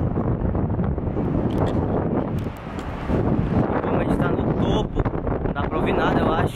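Strong wind roars and buffets the microphone without letup on the outdoor deck at the top of the CN Tower in Toronto, loud and close, and voices can be heard under it.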